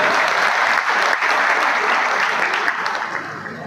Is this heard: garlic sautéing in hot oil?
no